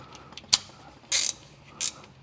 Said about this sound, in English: I may need to get this my shorter ratchet here